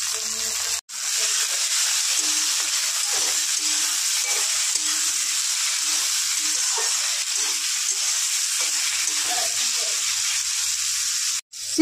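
Tomatoes are added to browned onions frying in mustard oil, producing a loud, continuous sizzling hiss that runs nearly unbroken, with brief dips in sound near the start and end.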